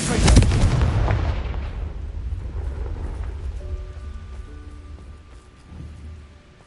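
The Confringo explosive spell in Hogwarts Legacy goes off with a loud, booming blast that rolls into a long, decaying rumble, followed by faint tonal chimes.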